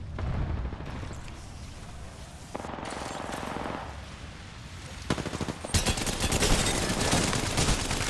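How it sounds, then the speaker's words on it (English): Sniper rifle exchange in Apex Legends, with sharp cracks and rapid bursts of gunfire, some distant and some close, intensifying into dense sustained shooting toward the end. "They're just sniper warring right now."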